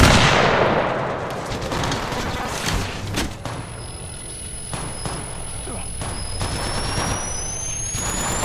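Gunfire in the battle royale game Apex Legends, with a sharp loud shot burst at the start followed by scattered single reports and thuds over a steady game ambience and faint tones.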